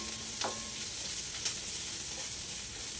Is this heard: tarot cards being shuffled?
no